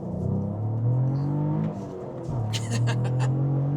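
A Cadillac CT4-V Blackwing engine revs up and blips on a downshift, with rising and falling engine tones from inside the car under people talking.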